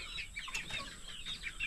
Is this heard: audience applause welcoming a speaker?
no